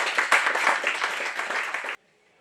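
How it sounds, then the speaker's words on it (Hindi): Loud audience applause welcomes a speaker at a national seminar at Hansraj College, a dense, close burst of many hands clapping for about two seconds before cutting off abruptly to near silence. "आप सबकी जोरदार तालियों से।"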